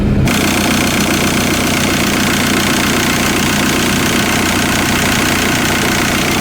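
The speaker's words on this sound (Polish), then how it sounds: "Nawet praca silnika się uciszyła." A Seat Leon 1.9 TDI diesel engine idles steadily after injector cleaning, a continuous low rumble with a faint knocking texture, loud and close, with no voices.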